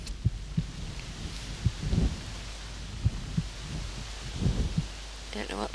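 A heartbeat sound effect from the video game Still Life thumps in repeated low double beats, moderately loud, over a steady hum, with speech nearby.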